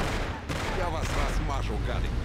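Rapid bursts of gunfire crackle amid dense noise and effects from the video game Mafia (2002), with voices talking over the continuous racket.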